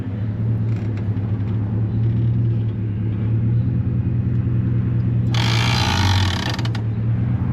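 A Ford Crown Victoria engine idles with a steady low hum and rumble as the car eases forward, with a brief burst of harsh broadband mechanical noise near the end.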